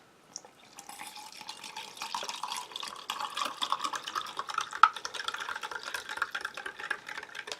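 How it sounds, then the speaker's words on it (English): Water runs steadily into a canteen cup to rehydrate a U.S. MRE meatballs in marinara sauce meal, a soft continuous trickle with small splashes, close and fairly quiet, with no talking. "And we shall just give this some water."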